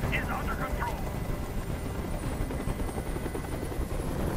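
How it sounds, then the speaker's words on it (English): Helicopter hovering overhead during a hostage standoff, a steady, loud rotor thump and engine roar filling the whole clip, with faint voices near the start. "I can't stand that noise anymore. Tell that helicopter to get out of here."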